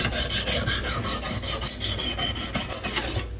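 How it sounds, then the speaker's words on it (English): Knife blade rasps repeatedly against a Lansky ceramic sharpening stone in a steady back-and-forth rhythm of close, scratchy strokes, with no voices. "I'm actually going to switch to a ceramic stone to get a nice mirror edge."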